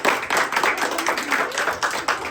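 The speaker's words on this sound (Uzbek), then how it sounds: "Qani bir chiroyli qarsaklar bo'lsin endi" A crowd at a neighbourhood celebration in Qirtepa mahalla claps steadily, a dense patter of many hands lasting the whole stretch at moderate loudness.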